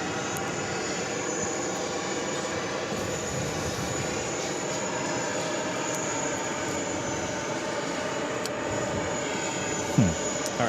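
A KLM jet airliner from Amsterdam arriving on runway 22 left at JFK produces a sustained, even engine roar with a high whine on top, steady throughout before a brief knock near the end.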